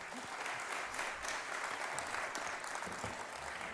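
Audience applause at a lecture on out-of-place artifacts, a steady wash of many hands clapping that holds at an even level throughout, distant and unaccompanied.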